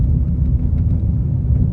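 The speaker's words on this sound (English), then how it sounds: "I'm in a Chevy Spark 2021, little bitty 4-cylinder thing" A small 2021 Chevy Spark with a 98-horsepower four-cylinder engine rolls along a dirt road, its cabin filled with a steady low road rumble and engine drone, loud and continuous, with no voices.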